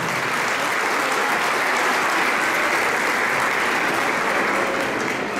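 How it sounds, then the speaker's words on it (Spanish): Loud applause from a crowd at the Chilenazo 2018 cueca dance competition in Chile: dense, even clapping that continues at full strength from start to end. "Fuerte aplauso."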